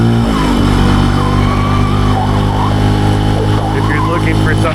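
Small Benelli TNT135 motorcycle engine while riding, a loud steady buzzing drone with wind noise, and someone talking over it throughout.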